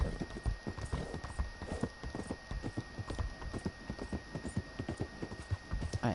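Steady clip-clop of horse hooves in Red Dead Redemption 2, a rhythmic walking gait, close and fairly quiet, with a low background hum and no talk.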